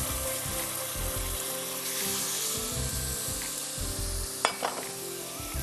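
Masala paste dropped into a pan of frying onion and garlic, a steady loud sizzle with stirring scrapes and a couple of sharp spatters near the end, no voices.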